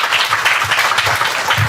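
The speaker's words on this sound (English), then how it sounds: "they deserve a huge round of applause" An audience applauds warmly at a tribute event, a steady wash of dense clapping that stays loud and even throughout the short stretch.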